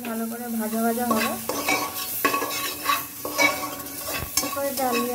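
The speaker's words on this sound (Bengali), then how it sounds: "এটা ভালো করে ভাজা ভাজা হবে।" Spices and salt sizzle in a pan while a utensil stirs and scrapes repeatedly, with irregular metallic clinks and scrapes over a steady close frying hiss.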